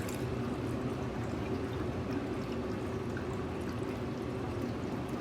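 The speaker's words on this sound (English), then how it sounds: "we've got it hooked up on tap, and we're gonna go ahead" A steady, continuous pour of carbonated trifoliate orange cider from a tap, filling a glass with a constant rushing hiss.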